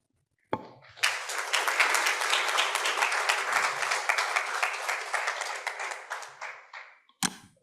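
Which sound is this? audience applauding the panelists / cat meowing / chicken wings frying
audience applauding the panelists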